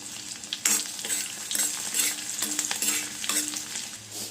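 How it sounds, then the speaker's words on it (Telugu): Green chilli, ginger, dried chilli and garlic fry in hot oil with a steady crackling sizzle, broken by rhythmic spatula scrapes and taps about every half second, close up and without talk. "పచ్చిమిర్చి ముక్కలు అల్లం ముక్కలు ఎండుమిర్చి వెల్లుల్లిపాయలు ఇవి కొంచెంగా వేగిన తర్వాత"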